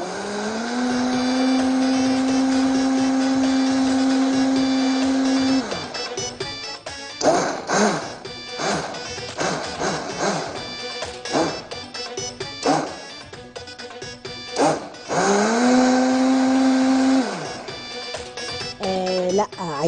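A kitchen blender whirs through bissara ingredients with a steady, high motor whine at the start and again later, while someone talks in the gaps between runs.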